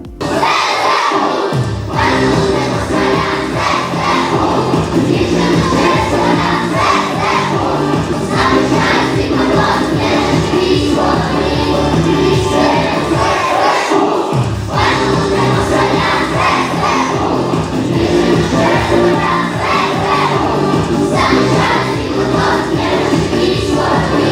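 A crowd at a charity concert in a village hall in Luchkivtsi roars and claps continuously, a dense, loud wash of cheering and applause with shouting voices that hardly lets up.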